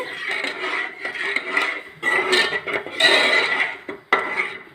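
Drumstick curry is stirred in a metal pot in a village kitchen, with continuous scraping and clinking of a utensil against the pot in uneven strokes, close and fairly loud, with no talking.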